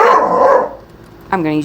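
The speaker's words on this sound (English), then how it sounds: "excuse my dog barking" A voice talks close up during dog grooming, then a Cairn Terrier lets out a single sharp bark right at the end.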